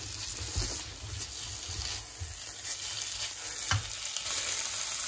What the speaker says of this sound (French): Je refais bien chauffer notre préparation.